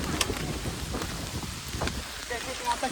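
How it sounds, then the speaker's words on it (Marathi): Steady rain falls and patters on surfaces during a rainy motorcycle ride up toward a hill fort, a dense continuous wash of drops with scattered louder splashes and no talk. "तर भावांनो आता बघू शकतात पाऊस आहे."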